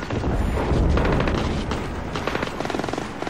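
Explosions and rumbling gunfire from the Splinter Cell Blacklist stealth-action game form a dense, loud barrage of booms and rattling shots, fading slightly toward the end.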